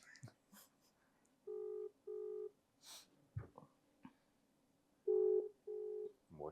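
A phone ringback tone sounds on an outgoing call, steady beeps in pairs heard twice, quiet and clear, with faint breathing and small handling noises between them.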